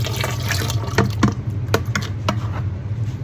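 Lye water poured into a bacon grease soap mixture, heard as close liquid splashing and trickling with irregular small plops and drips.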